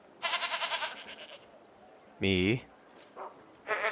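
Goats in the Anno 1800 video game bleat in short wavering calls, one bursting loud and near, among clipped game sounds, with a voice speaking briefly.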